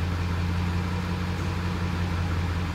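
A Ford F-350 (OBS generation) with a 7.3L Power Stroke diesel idles with a steady, low, droning hum and a faint rattling texture. It is constant and fairly loud, with no speech over it.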